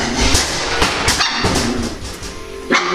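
Puppies from a colorful litter bark and yip in quick, repeated high-pitched bursts, close and loud, with some whimpering between the barks and no clear talking.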